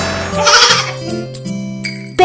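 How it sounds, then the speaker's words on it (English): A baby goat gives a bleat near the start, set against a sung nursery-rhyme melody with sustained musical tones running through the rest. "isn't the baby goat naughty?"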